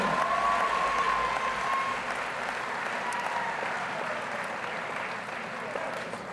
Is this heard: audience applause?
yes